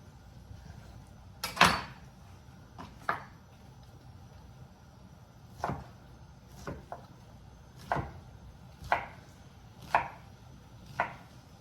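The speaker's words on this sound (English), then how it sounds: "we're going to need about a cup of ham, chopped up as well. Into bite-sized pieces, of course." Knife chopping cooked ham into bite-sized pieces on a cutting board, about ten crisp, well-spaced chops at a steady, unhurried pace, fairly close and with no talking.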